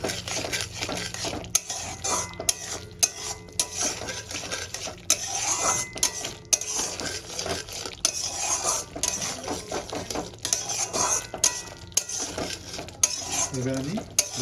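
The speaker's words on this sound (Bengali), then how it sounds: "এবার আমি ভালো করে কষাতে থাকবো" Spice paste is sautéed and stirred in a pan for a potato and catla fish curry, with continual scraping and clinking of a metal spatula against the pan over a low sizzle and no talking.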